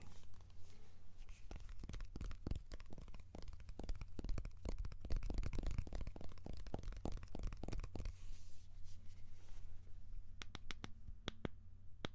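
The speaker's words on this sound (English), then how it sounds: "I know a lot of people like phone tapping." Close, quiet tapping and clicking on an iPhone 15 Pro comes in dense bursts for about eight seconds, then tapers to a few sparse taps near the end, with no talking.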